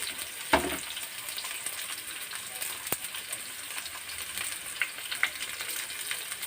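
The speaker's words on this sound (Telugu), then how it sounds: "ఉల్లిపాయలు కూడా వేయాలి ఉల్లిపాయలు బాగుంటుంది తర్వాత కరివేపాకు" Onions and curry leaves fry in oil for a tempering, a soft continuous sizzle with a sharp crackle early on and a few light clicks, fairly quiet and without talk.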